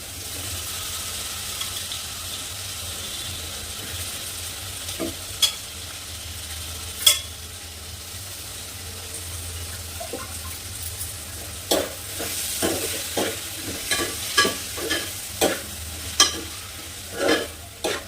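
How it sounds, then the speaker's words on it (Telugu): Small prawns fry in a pan as a spatula stirs them, making a steady low sizzle broken by a run of distinct scraping clicks that grow more frequent toward the end, with no talking. "ఇప్పుడైతే రొయ్యలు చేస్తున్నానండి"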